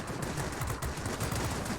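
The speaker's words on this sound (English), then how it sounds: "my cannons have overheated, and so they're taking forever to actually kill anything" Rapid aircraft cannon fire from a Yak-3 fighter in World of Warplanes, a dense, loud and continuous stutter of shots filling the whole moment.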